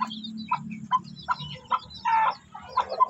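Chickens and young chicks on a backyard farm, a series of close clucks and soft chirps in irregular bursts with short pauses between, no talking.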